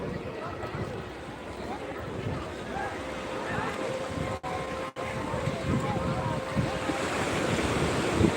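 Sea waves wash steadily onto the beach by the main ghat at Old Digha, a continuous roaring surf with wind buffeting the microphone and faint crowd voices beneath.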